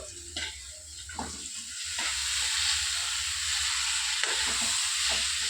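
Shredded jackfruit for a Rajahmundry-style curry sizzles in a hot pan, a steady frying hiss with occasional stirring scrapes and clinks, close by and moderately loud.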